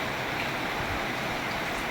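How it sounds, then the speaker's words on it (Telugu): A continuous wash of heavy downpour in a summer-night thunderstorm in Nellore, steady and enveloping like rushing water, with no talking and no individual drops standing out. "ఉరుములు మెరుపులతో కూడినటువంటి వర్షం ఇది."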